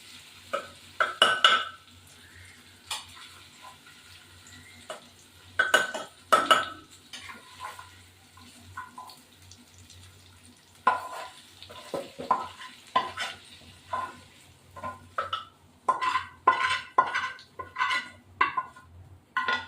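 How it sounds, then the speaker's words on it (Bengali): Pieces of mutton are stirred and turned in a pressure cooker pot, with scraping of a spoon against metal and a soft sizzle, in irregular bursts that grow busier toward the end, close and moderately loud. "মাংসটা একে একে দিয়ে দিয়ে এই যে মাংসটা প্রেসারে কুক করছি।"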